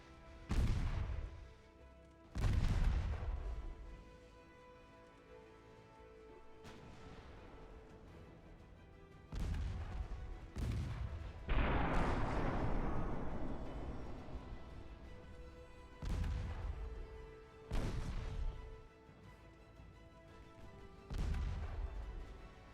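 Heavy naval guns in a warship battle game, with cruisers and battleships firing 10-inch guns, boom out in about nine separate heavy blasts at irregular intervals, each rolling off into a rumbling decay between quieter gaps.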